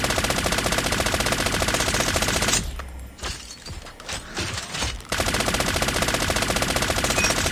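Rapid sustained automatic fire from an M13 rifle in Call of Duty ranked gameplay, loud and dense, broken by a short quieter gap before the burst resumes.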